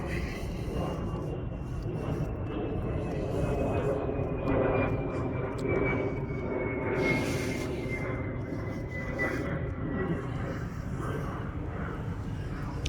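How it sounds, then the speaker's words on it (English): A fixed-wing airplane passes overhead with a steady, broad engine roar and a slowly falling whine that fills the whole stretch, loud and continuous outdoors. "I gotta keep pausing for these airplanes."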